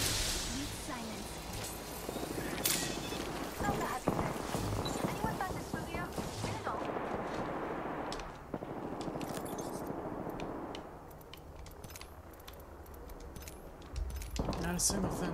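Rapid bursts of video game gunfire crackle over steady game ambience and voices, with sharp shots clustered early before the firing thins out.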